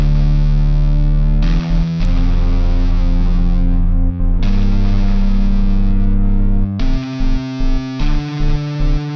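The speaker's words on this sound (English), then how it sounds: "I grabbed a electric guitar" A distorted electric guitar plays a sustained, chord-like riff as a repeating pattern for a beat, with the held notes broken by short rhythmic stops and restarts, loud and alone.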